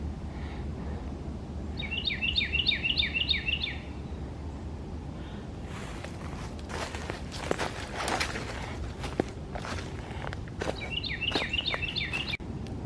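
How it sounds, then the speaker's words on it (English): Bird song in an early morning park: two bursts of rapid, repeated high trilling notes, fairly clear over a low background rumble, with crunching footsteps along a trail between them. "I love listening to the birds early in the morning."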